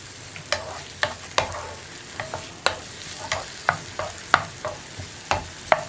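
Grapes for a grape chutney stirred in a pan with a spoon, giving a run of light clacking scrapes at an irregular pace over a soft, faint sizzle.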